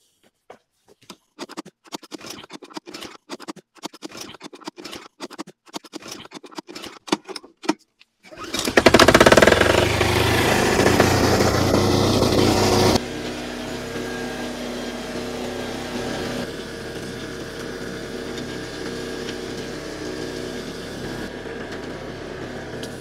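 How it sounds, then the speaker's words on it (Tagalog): An engine that has not been run for a long time is cranked in a rapid series of starter clicks and turns, then catches with a loud roar and settles into a steady idle, left running to recharge the battery. "Hayaan ko munang umandar siya para mag-recharge yung battery."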